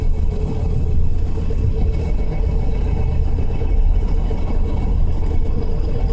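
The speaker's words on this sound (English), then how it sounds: "It's a noise very consistent to the transmission." A car's transmission whines and drones steadily under a low, continuous engine rumble, loud and unbroken throughout with no talking.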